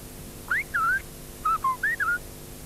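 Silbo Gomero whistled language, two quick bursts of short swooping whistles separated by a brief pause, clear and close with no voices.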